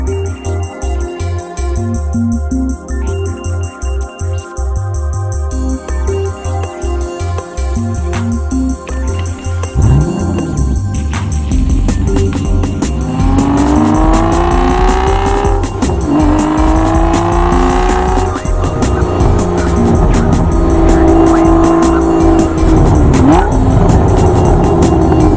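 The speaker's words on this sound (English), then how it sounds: "you have the largest V12 motor crammed into the engine compartment" An Aston Martin V12 Vantage fitted with a large V12 sputters and idles at first, then roars loudly through rising, sweeping revs with tire squeal mixed in during hard driving.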